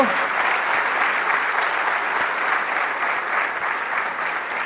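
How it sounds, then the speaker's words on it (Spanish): A congregation applauds during a church service, a steady, even wash of many hands clapping at moderate distance, sustained without talk. "Démosle un fuerte aplauso al Espíritu Santo"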